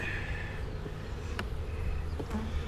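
Honey bees swarm around an opened hive on a hot day, a dense continuous buzzing hum close up with a few brief knocks and clicks from the hive work.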